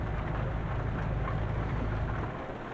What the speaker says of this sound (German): Ich muss auch einstellen, dass es regnet.